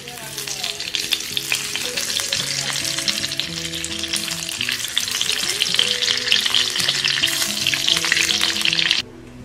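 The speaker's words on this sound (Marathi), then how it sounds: "आता मी त्याच कढईत घालणार आहे 2 ते 3 चमचे भरून साजूक तूप" Two to three spoonfuls of pure ghee hit a hot kadai and sizzle steadily and crisply up close for about nine seconds, swelling slightly before stopping sharply, with soft tonal background sounds underneath.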